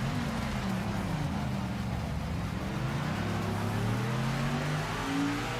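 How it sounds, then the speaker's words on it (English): A race car engine in the Project Motor Racing video game roars steadily and loudly, its pitch rising and falling as it revs through gears, with no voices. "That car sounds so good."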